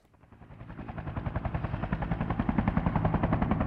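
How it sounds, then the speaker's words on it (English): A large helicopter in the video game Yakuza 3 approaches with rapid, chopping rotor beats that grow steadily louder and closer, rumbling with a deep low end. "That's a big helicopter."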